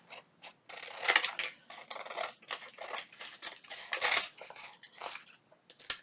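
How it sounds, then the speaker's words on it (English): Scissors trim the edges of coffee-dyed paper in a series of crisp, close snips and rustles, some louder than others, with short pauses between cuts and no talking. "trim my coffee dyed paper off. Here we go. Just trim it around, just like that."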